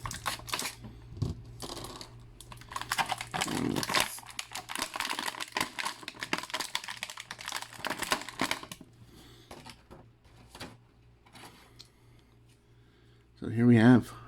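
Scotch tape being peeled and pulled off plastic toy packaging for Marvel Legends figures makes dense crackling, ripping bursts in the first several seconds, then quieter handling, with a voice speaking near the end.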